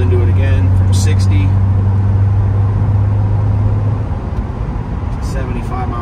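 Inside a 1989 Porsche 944 S2 with a 5-speed, the engine drones loud and steady while accelerating from 60 to 75 mph, a deep constant hum under road noise that eases off near the end.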